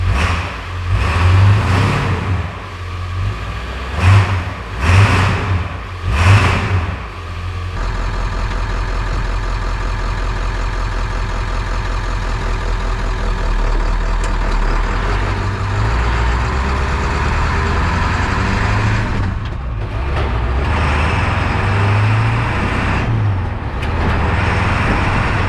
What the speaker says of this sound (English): I did take a couple clips of the stock exhaust system just so we could compare